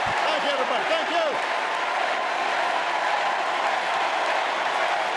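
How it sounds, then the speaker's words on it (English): Audience applause fills a political rally, a dense wash of clapping and crowd noise that holds steady throughout, with a voice briefly heard near the start. "I don't want this applause."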